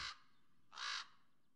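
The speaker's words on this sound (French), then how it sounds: "À droite, il y a des corbeaux qui accompagnent toujours les ours." Crows calling in an Arctic setting around polar bears, two harsh caws a moment apart, clear but fairly faint against a quiet background.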